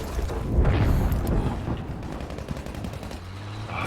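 Sustained machine gun fire in Battlefield V multiplayer, a dense rapid rattle with heavy low booms, loud at first and then easing into steadier bursts, with no talking.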